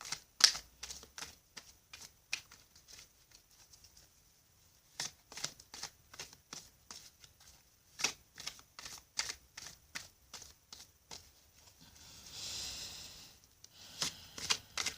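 A deck of cards is riffled and shuffled in quick bursts of crisp flutters and taps, close by, with short pauses in between.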